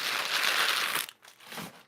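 Packing paper crinkled by hand while unpacking a parcel: a dense, close crackling rustle for about a second, then a few softer scattered crinkles.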